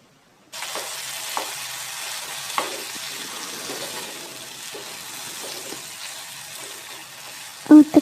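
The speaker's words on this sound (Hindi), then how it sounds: "30 सेकंड के लिए हम इसे फ्राई करेंगे और उसके साथ ही हम गोश्त को शामिल कर लेंगे और इसको अच्छी तरह भुनेंगे।" Meat (gosht) frying and sautéing in a pot for kadu gosht, a steady close sizzle with scattered stirring clicks and scrapes throughout, ending in a couple of louder knocks.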